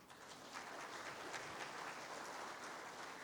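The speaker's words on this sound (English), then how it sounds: "We are clapping and we are ready to invite you with our claps." A crowd claps steadily in a dense patter of applause, faint and somewhat distant, with no talking.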